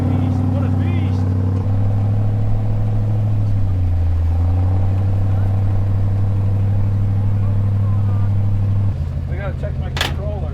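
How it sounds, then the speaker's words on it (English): Engine of a Ford Raptor pickup stuck in deep snow during a major snowstorm, a steady loud low rumble that dips briefly and rises again as it is revved, with a short brighter burst near the end. "I'm gonna give it some RPM."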